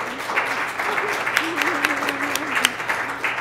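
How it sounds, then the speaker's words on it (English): An audience applauds a panel at a weather forecasting briefing with dense, sustained clapping, while a voice speaks faintly underneath. "Tremendous panel. I think they all deserve a round of applause."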